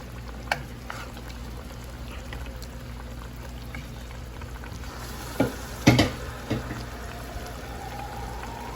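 Kangla fish fries in masala in a pan, a low, steady sizzle with a few louder scrapes and clatters as the pieces are turned over, and no talking.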